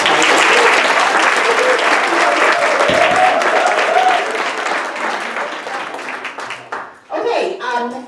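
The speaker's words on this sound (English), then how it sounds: "Let's give Kim another big round of applause" Loud applause from an audience at an expo event in Crystal Gardens, Southgate, Michigan, dense and sustained for about four seconds, then thinning into scattered claps with some crowd voices and a brief final burst.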